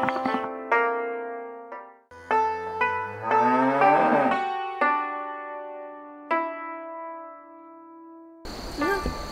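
A cow moos loudly several times in a Nepali village setting, long drawn-out calls with pauses between them, each call falling or shifting in pitch, close by and alone without talk.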